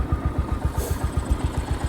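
A 1970 tractor engine runs nearby after clearing snowy roads, giving a steady, close, low chugging with evenly spaced firing pulses and no voices over it.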